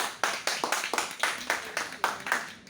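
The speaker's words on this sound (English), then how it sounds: "Give them a big round of applause." In a communication skills class, a small group claps together in a steady, even rhythm, about ten sharp claps evenly spaced and moderately close.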